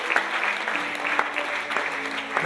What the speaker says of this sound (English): Clap your hands to Jesus.